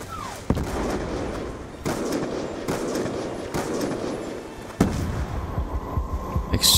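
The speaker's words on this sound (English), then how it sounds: "Where the hell is that guy shooting me from?" Gunfire in a Call of Duty campaign: several sharp, loud shots strike at irregular intervals over a steady rumbling battle backdrop, with more scattered bangs crowding in toward the end.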